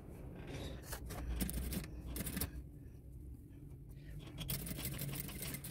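A sewing machine stitches fabric for a foldable tote bag, running in steady bursts with mechanical whirring and clatter, close by under low room noise.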